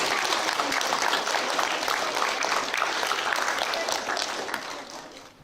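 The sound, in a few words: round of applause for the winners at a school assembly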